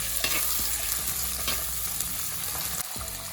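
Plenty of curry leaves fry and get stirred in a pan for mutton chatti curry, a continuous close sizzle broken by spatula scrapes and light clatters against the pan, with no one speaking.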